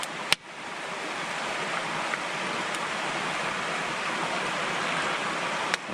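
Hot water pours steadily into a bag of oatmeal at a winter campsite, producing a continuous close, hissing, splashing rush that runs unbroken throughout, with a couple of sharp clicks and no talk.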